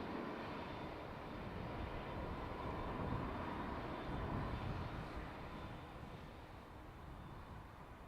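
A Boeing 787 Dreamliner landing on runway 28 left at Dublin Airport, a faint, distant engine rumble that swells slightly midway and then eases off.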